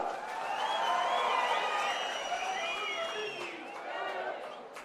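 A large crowd at a political rally in Karnataka claps and cheers in a sustained, fairly distant roar, with voices rising and falling and a speaker talking over it.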